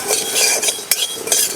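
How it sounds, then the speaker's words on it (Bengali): Dry panch phoron seeds roasting and being stirred in a dry pan, a close rattling scrape of spoon and seeds with small clinks, steady through the moment with no talk. "শুকনো খোলায় 5 ফোড়ন ভেজে নেব"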